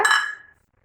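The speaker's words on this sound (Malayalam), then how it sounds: "ഞാനിവിടെ 3 സ്റ്റീൽ പാത്രങ്ങൾ എടുത്തിട്ടുണ്ട്." Steel kitchen vessels clink together once, a bright metallic ring that decays quickly into silence.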